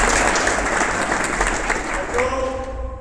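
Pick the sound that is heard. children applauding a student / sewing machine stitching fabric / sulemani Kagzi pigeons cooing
children applauding a student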